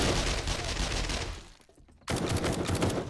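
Rapid gunfire in the survival game 7 Days to Die, a loud continuous burst of shots that drops out for a brief gap before a second barrage kicks in.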